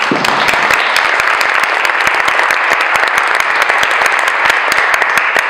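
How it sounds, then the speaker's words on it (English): A crowd at a mentoring rally breaks into dense, steady applause that fills the room loudly and evenly, many hands clapping at once with no voices rising above it. "please give yourselves a round of applause"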